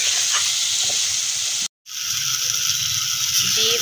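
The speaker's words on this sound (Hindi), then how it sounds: "अब इनको हल्का सामने भूनना है बेलों के साथ भी मसाले को" Masala fries in hot oil with belay in a pan for salan, a steady bright sizzle and hiss that cuts out briefly and then carries on alone.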